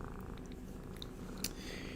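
A pet cat, a female, purrs steadily close by, with a continuous low, even rumble and a few faint higher ticks and chirps above it.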